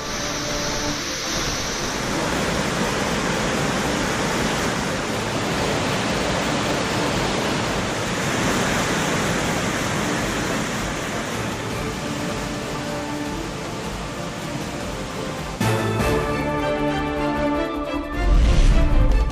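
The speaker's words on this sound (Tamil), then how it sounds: "ஒகேனக்கலில் ஆர்ப்பரித்து கொட்டும் வெள்ளம்" Floodwater on the Kaveri river roars down the Hogenakkal waterfall in a dense, steady wash of broadband noise, loud and continuous, with a brief change in texture near the end.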